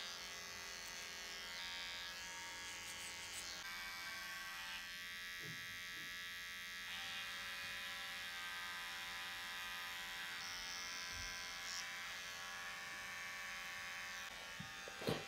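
Electric hair clippers buzzing steadily while cutting short hair during a neck taper, a close, continuous hum with slight changes in pitch as the blade moves.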